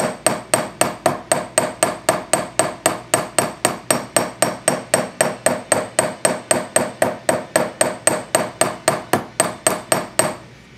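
Rapid, evenly spaced ball peen hammer strikes texturing metal, about four per second, ringing sharply and close up with no talking.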